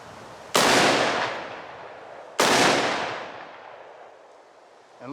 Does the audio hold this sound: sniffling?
no